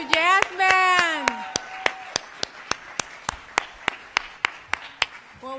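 An audience applauds the FIU Jazz Band, with sharp rhythmic claps ringing out after a voice finishes speaking, fairly close and distinct.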